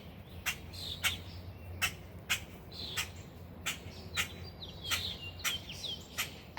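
A mother bird squawks and chirps in short sharp calls repeated roughly every half second, moderately close, near her baby found on a sidewalk, over a faint outdoor hum.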